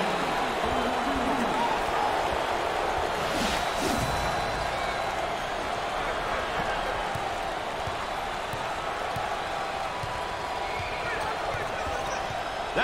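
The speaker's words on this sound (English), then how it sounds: "You have the crowd chanting, jumping around, fired up." Home crowd at a college basketball game in the Maui Invitational, Furman against Minnesota, roars in a steady dense wall of cheering and chanting, with a broadcast voice talking over it the whole time.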